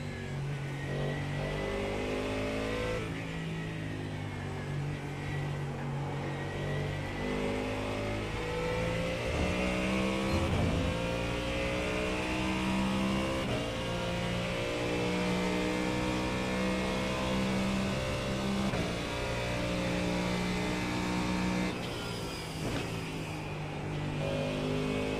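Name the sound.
race car engine in a NASCAR racing video game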